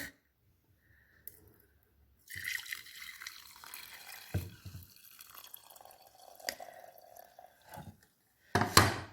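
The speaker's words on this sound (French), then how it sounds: "Mon thé a infusé, donc je vais le vider dans la théière." Brewed mint tea is poured into a teapot in a quiet kitchen: a soft, splashing trickle of liquid starts after a pause and runs on for several seconds, then ends in a sharp clink.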